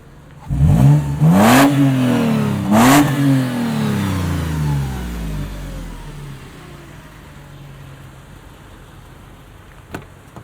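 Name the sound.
SUV engine revving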